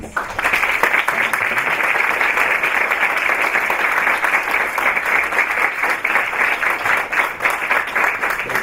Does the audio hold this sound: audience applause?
yes